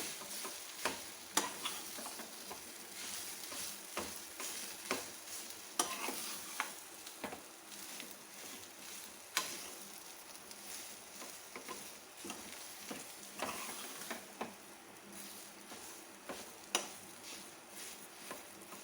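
Potato stuffing mixed in a bowl, with soft irregular scraping and tapping from a spoon close by and occasional sharper clicks in a quiet room.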